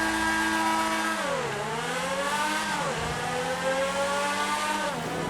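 A race car from the Cunning Stunts update of a driving video game roars through a tunnel, its engine loud and close with a droning, echoing tone that drops and climbs through gear changes, heard alone.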